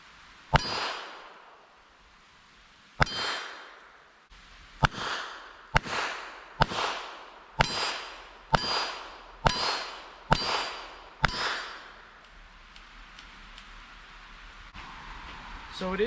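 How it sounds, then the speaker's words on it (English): Shots from a Charter Arms Target Pathfinder eight-shot .22lr revolver at the range: two spaced cracks, then a steady string of about eight sharp, ringing pops in quick rhythm, followed by quiet background noise. "I'm gonna keep shooting and see what I can get out of this."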